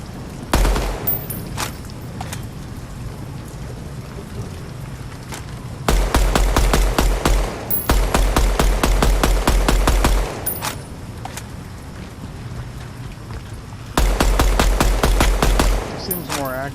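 Rapid bursts of gunfire from the only wall gun at the start of a video game build, fired in three loud sustained volleys with single shots scattered between them.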